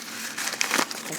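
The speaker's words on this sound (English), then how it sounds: "I can take a piece of paper and I can wad it up" A sheet of paper wadded up by hand gives a brief, close burst of crinkling and crackling that lasts about a second.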